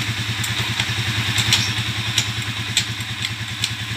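A Pinoy 155 motorcycle with a converted five-speed transmission runs steadily nearby, its engine putting out a continuous, rhythmic thrum with light mechanical clatter throughout.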